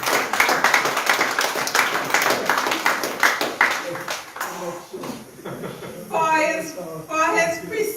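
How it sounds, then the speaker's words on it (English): Audience clapping for a minister at a Taiwanese scholarship award ceremony, a dense steady patter of many hands for several seconds that thins out, with voices talking over the tail end. "For his precision, your minister, take another round of applause"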